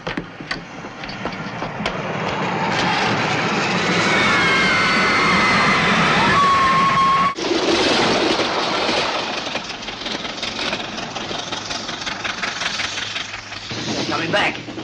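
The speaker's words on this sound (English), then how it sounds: "The up train has departed on the down line, sir." A train on the railway, an up train running on the down line, rumbling and clattering steadily and loudly for the whole stretch, with a brief break midway.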